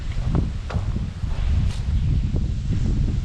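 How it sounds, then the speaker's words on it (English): Gusty wind buffets the microphone at an outdoor shooting range, a steady low rumble with rustling bursts filling the whole stretch, loud and close. "Apologize for the wind, it's pretty windy today."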